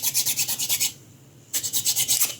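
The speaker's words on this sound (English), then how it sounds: "I'll file this flat." A metal file rasps a sculpted part of a 1/6-scale Predator figure flat, a quick run of rhythmic close strokes, a short pause, then another burst of even strokes.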